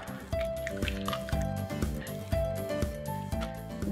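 Eggs cracked and poured into wing batter made with baking powder, giving soft wet squishing and dripping liquid sounds with a few light taps, close and quiet.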